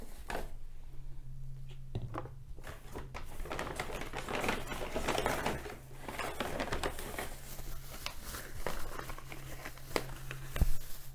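A plastic bag crinkles and rustles continuously at close range amid bathroom items being sorted, with dense irregular crackles and snaps and a faint steady hum underneath.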